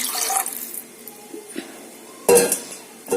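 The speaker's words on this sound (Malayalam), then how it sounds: "രണ്ട് ഗ്ലാസ് വെള്ളം ഒഴിക്കണം" Water splashes into a cooking pot as rice is readied, a short burst of pouring and running water with a few light clinks of the vessel, followed by a louder gush near the end.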